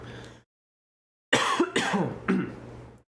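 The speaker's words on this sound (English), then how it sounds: "Every now and then I've got a little bit of a cough" After a brief moment of quiet, a few close, hoarse coughs come in quick succession, then fade out.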